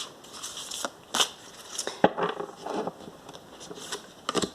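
Tarot cards are shuffled in a series of soft, papery riffles and taps, close and fairly quiet, with no talking.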